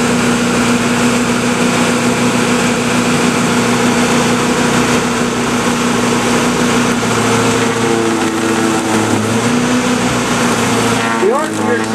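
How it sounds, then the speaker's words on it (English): A portable generator drones steadily and loudly through the whole stretch at a power line safety demonstration, with an engine-like hum that shifts slightly in pitch toward the end. "the generator makes a little bit of noise"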